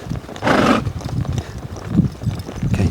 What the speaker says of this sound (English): Okay, you ready? Lope off, Elon.